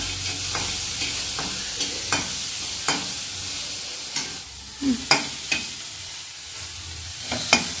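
Ingredients for egg sambar fry in a pan with a constant hiss while a spoon stirs and scrapes in sharp, irregular knocks, close and alone without speech.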